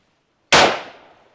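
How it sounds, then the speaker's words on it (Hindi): A single rifle shot fired at a target during an Assam Rifles training drill, one sharp loud crack after silence that decays quickly with a short echo. "सामने टारगेट, सिंगल शॉट फायर।"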